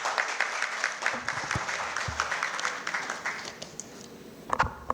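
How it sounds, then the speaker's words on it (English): Applause from an audience at a finance summit's inaugural session, welcoming a chartered accountant speaker, with scattered claps that are moderately loud at first and then thin out toward the end. "let's make him feel welcome at his home turf ACA with a big round of applause"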